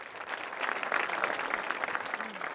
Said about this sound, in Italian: Signori, facciamo ancora un applauso alla memoria di Federico